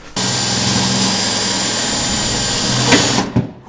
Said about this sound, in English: So I'm going to try to drill this hole out and hope for the best